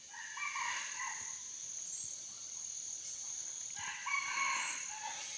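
Wild jungle fowl crowing rings out twice, long drawn calls at moderate distance, over a constant high insect buzz, as the birds fight.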